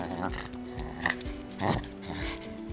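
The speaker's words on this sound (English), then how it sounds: "The dog bared its big pointed teeth and growled." A radio theater sound effect of a dog gives a run of short, sharp barks and growly yips, fairly close and lively, over a faint background hum.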